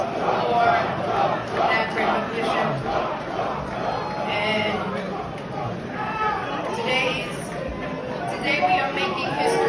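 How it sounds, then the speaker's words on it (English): A large crowd at an FDNY chaplain swearing-in ceremony jeers and boos in a sustained, rolling din that swells and dips, with shouted voices rising out of the mass. "She was relentlessly freaking booed."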